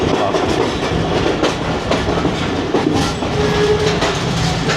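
The Jaffar Express passenger train running between Rawalpindi and Lahore, heard from inside the carriage as a continuous loud rumble with rhythmic clickety-clack of wheels over rail joints and a brief faint squeal.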